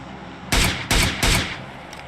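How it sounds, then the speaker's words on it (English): Three sharp, loud SLR rifle shots in quick succession from a squad-based shooter game, each a booming crack with a short decaying tail, fired in measured tap-fire rhythm. "Great tap fire with the SLR."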